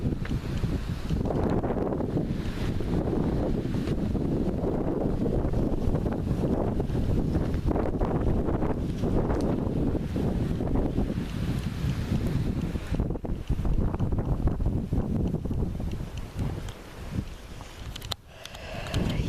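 Strong wind roars steadily into the microphone in Charente, France, a dense buffeting rumble with gusts that rise and fall, no other clear sounds.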